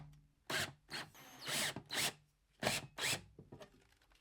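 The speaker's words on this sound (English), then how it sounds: "use my drill to get that screwed in here" A power drill whirs in several short, close bursts with brief pauses between them, as a screw is driven into a bracket while mounting a 6000-watt, 240-volt garage heater.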